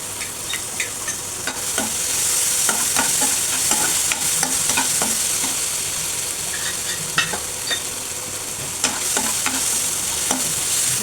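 Ginger garlic paste sautés with softened onions and tomatoes in a pan, a steady close hiss broken by frequent light spoon taps and scrapes, with no one speaking.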